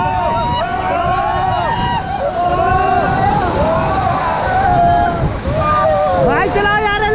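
Paddles working a river raft amid rushing water and wind noise, with several voices shouting and calling out over the splashing throughout.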